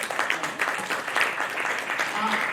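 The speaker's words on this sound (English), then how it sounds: "They do need a great kind of an applause from all of us." A conference hall audience applauding, a dense crackle of many hands clapping at moderate distance, with a faint murmur of voices mixed in.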